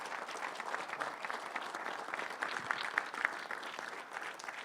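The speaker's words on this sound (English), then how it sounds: "can I get a big round of applause today for our panels?" An audience at a regional housing panel event applauds, a steady wash of clapping from a modest crowd that holds evenly for several seconds.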